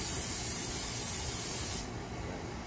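Canola oil sprays into a heated pan in one steady, close hiss that lasts nearly two seconds before cutting off, leaving a quieter background.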